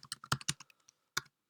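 Quick bursts of keystrokes on a computer keyboard while entering expected values, a cluster of sharp clicks, a pause with faint taps, then a few more presses, close and fairly quiet.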